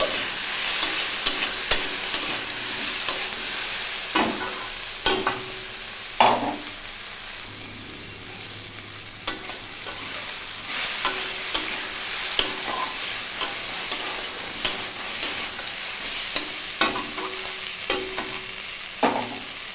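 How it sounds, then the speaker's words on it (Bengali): Garlic paste sizzles steadily in a hot pan, with the frying hiss running throughout and repeated sharp scrapes and taps of a spoon stirring against the pan; no voices. "রসুন বাটা দিলাম, ভালো করে ভেজে নিচ্ছি।"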